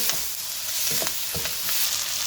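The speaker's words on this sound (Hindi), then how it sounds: "फ्लेम को बिल्कुल आपने तेज़ रखना है और इसको जल्दी जल्दी फ्राई करना है" Okra fries over a high flame with a dense, steady sizzle, punctuated by repeated scraping and stirring strokes in the pan, close and loud with no talking.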